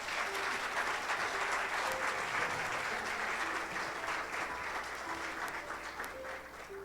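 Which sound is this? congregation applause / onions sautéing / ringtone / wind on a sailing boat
congregation applause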